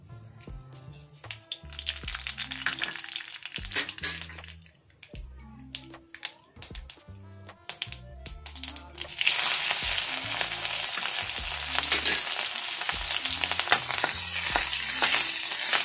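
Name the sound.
cumin and mustard seeds sizzling in hot oil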